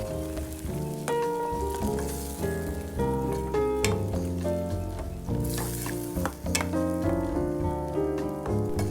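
Turmeric and salt sizzle in hot oil in a pan for potato curry, a dense continuous crackle broken by scraping stirs and clinks of the spoon. Close and steady, with no talking.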